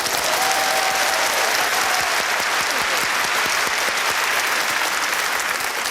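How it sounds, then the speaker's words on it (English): Steady, full applause from a theatre audience at a live tribute show for Spike Milligan, a dense wash of clapping hands sustained throughout at an even level. "Pauses for audience applause"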